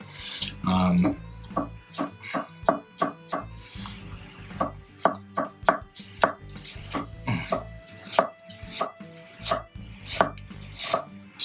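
A MAC MTH-80 chef's knife chops food on a cutting board in a steady, even rhythm of crisp, close strikes, about two per second, with a voice briefly in the background.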